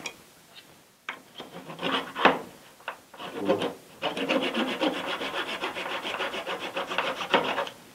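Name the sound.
trimming a wooden cake dowel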